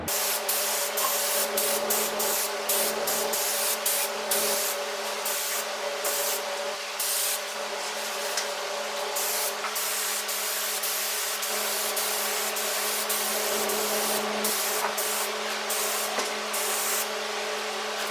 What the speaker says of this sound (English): we're gonna do a couple test sprays just to make sure it's shooting